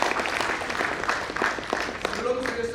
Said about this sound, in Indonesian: Tepuk tangan dulu buat Bapak Ali